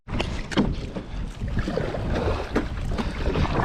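Strong wind buffets the microphone in heavy, roaring gusts outdoors along the Colorado River, continuous and loud for a few seconds.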